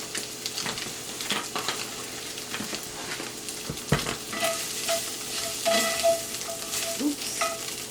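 An onion seasoned with complete seasoning fries in a pan, giving a steady close sizzle, with frequent utensil scrapes and knocks as it is stirred.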